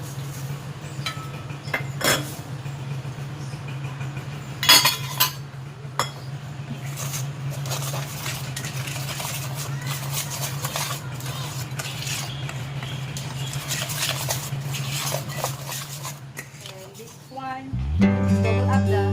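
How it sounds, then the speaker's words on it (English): Utensils clink and scrape against a bowl while breadcrumbs and matcha powder are mixed together, a few sharper knocks standing out over a steady low kitchen hum. "we're going to mix our breadcrumbs and matcha"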